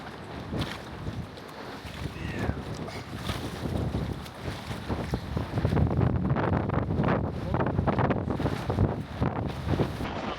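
Strong wind buffets the microphone in a continuous, roaring rush, with gusts swelling louder in the second half; no voices.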